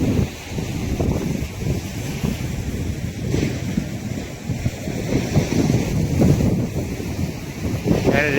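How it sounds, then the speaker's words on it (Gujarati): Sea waves washing in on a beach shore, a steady broad roar of surf with wind buffeting the microphone throughout, loud and continuous. "આ મોજો આપણને પલાળશે એવું લાગે."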